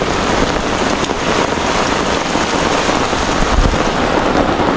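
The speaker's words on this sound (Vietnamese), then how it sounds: "Chứ trời này không thể tạnh được không, không mưa kiểu mà mưa dầm rồi các bạn." Steady heavy rain pouring down near a forested river during a fishing trip, a loud dense continuous hiss of drops with faint low rumbles underneath.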